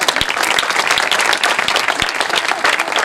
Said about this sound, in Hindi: हम जोरदार तालियां बजाएंगे।